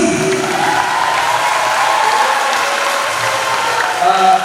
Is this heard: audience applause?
yes